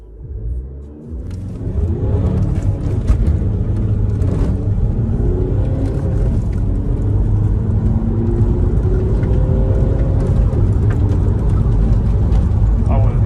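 Audi A3 170 TDI accelerating hard with its front wheels spinning, a loud, steady engine rumble rising through the revs over several seconds while people talk over it.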